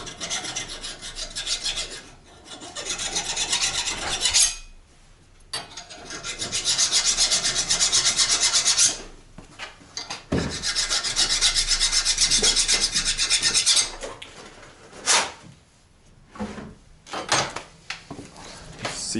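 A file rasps back and forth across the cut face of a metal brake line tube for a Buick Grand National, strokes coming in loud, steady bursts separated by short pauses, close up with no talking.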